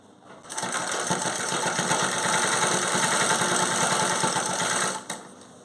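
A tailor's sewing machine stitches folded fabric around a pant zipper, running steadily and loudly for about four and a half seconds, close up, then stopping abruptly.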